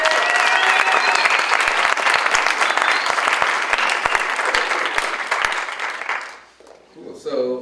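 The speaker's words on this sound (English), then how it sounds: "One more round of applause for those guys." Audience applause at a live music and design event, sustained, dense clapping from a crowd that holds steady for several seconds, then fades out, followed by a brief burst of noise near the end.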